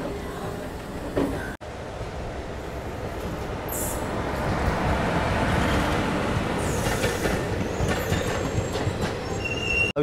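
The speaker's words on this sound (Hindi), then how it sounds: "लखनऊ जंक्शन रेलवे स्टेशन से हमारी ट्रेन अब निकल चुकी है शाहजहानपुर और बरेली की तरफ।" Onboard the Kanpur–Kathgodam Garib Rath express as it pulls out of Lucknow Junction, the carriage sounds a loud continuous rumble of wheels on track, with rhythmic clatter and high squeals of wheels against the rails.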